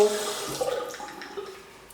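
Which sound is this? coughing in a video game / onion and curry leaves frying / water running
water running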